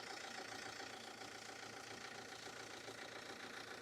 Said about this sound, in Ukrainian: Прислухайтесь, як працює двигун.